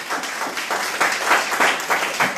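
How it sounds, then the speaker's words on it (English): Audience applause at a Labour Party youth conference in 2019, a brief, lively burst of many hands clapping in uneven waves, close and full. "I want you a round of applause."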